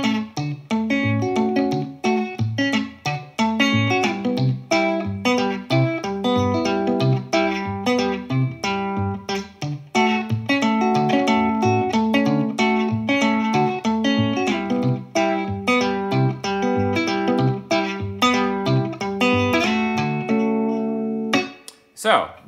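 Electric guitar played fingerstyle, with alternating bass notes under a melody in a steady back-and-forth rhythm, close and continuous for about twenty seconds, with no talking.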